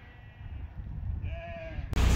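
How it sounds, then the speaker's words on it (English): A flock of about two hundred ewes due for lambing on a farm, with a single drawn-out bleat rising over low rumbling background noise before a sudden loud burst at the end. "we probably have about close to 200 mamas out here that should all be due to start lambing"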